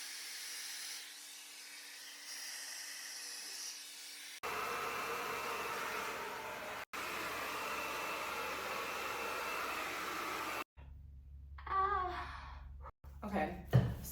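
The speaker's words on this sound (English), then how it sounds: "And now I'm gonna diffuse over my head a bit more," Hair dryer with a diffuser attachment drying curly hair: a steady whooshing blow that runs loud and close for several seconds, then cuts off, followed by fumbling and handling noises.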